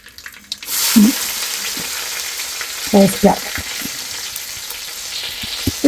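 Shallots, onion, ginger, green chili and tomato drop into a hot frying pan for a duck roast, giving a steady sizzle with sharper bursts of frying and stirring noise.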